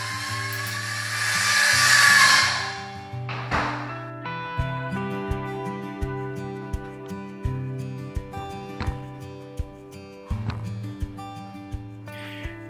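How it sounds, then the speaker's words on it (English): DeWalt 20-volt cordless circular saw cutting wood for subfloor work in a home remodel, one loud rising whine of a cut followed by a short burst, with background music and tapping thuds. "I was just using my 20 volt DeWalt circular saw"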